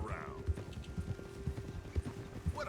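Horse hooves clip-clop in a steady rhythm in the Red Dead Redemption 2 video game, fairly close, with brief voice sounds at the edges.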